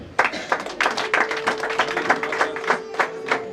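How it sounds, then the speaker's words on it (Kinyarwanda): Crowd clapping hands in steady rhythmic applause to welcome guests at a Rwandan cow-gift ceremony, many hands close together with a faint steady tone underneath. "tubakirije amashyi n'impundu namwe nimuhuze ibiganza maze namwe tubakire"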